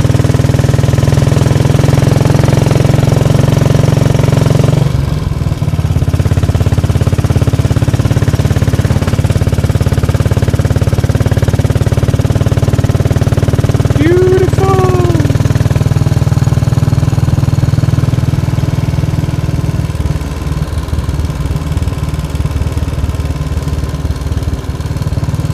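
A motorcycle engine drones steadily and loud from close by, with a brief shift around the gear change and continued running under wind-like noise.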